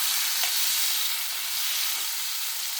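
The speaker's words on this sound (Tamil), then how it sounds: "போட்டு நல்லா வதக்குங்க. இந்த எண்ணெயிலேயே அது வதங்கணும்." Star gooseberries sautéing in oil for pickle, a dense, even sizzle with soft stirring, close and continuous from start to finish.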